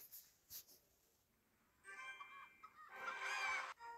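Cartoonish chicken clucking from a Clash Royale emote, a short burst of bright fowl squawks rising after a couple of faint taps, fairly quiet and heard alone.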